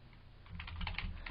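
A host name being entered on a computer keyboard, a quick run of close, light key taps in a quiet room.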